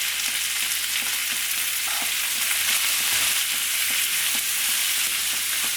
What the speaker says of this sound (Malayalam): സവാള നല്ലപോലെ വഴന്ന് വരണം കേട്ടോ